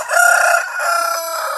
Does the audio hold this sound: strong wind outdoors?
no